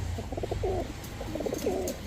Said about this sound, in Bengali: এই হচ্ছে খুলনার ঐতিহ্যবাহী কবুতর